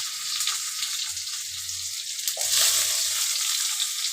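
Garlic, added after cumin, sizzles in a pan over a low gas flame: a constant bright hiss that swells louder partway through, with no one talking.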